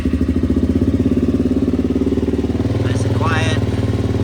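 A Suzuki LTZ 400 ATV engine idles steadily up close with an even, throbbing pulse, and a voice speaks briefly near the end.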